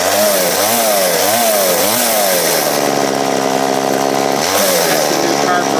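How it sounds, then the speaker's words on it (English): A chainsaw with a newly installed carburetor revs up and down in repeated bursts, then holds a high steady whine before another rev, loud and close with no talking. "I got my chainsaw running."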